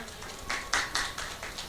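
A handful of sharp hand claps ring out in an uneven rhythm at a Hindu Sammelan gathering in the village of Badi Itahari, honoring Satyaprakash; the claps sound moderately distant, with no talking over them.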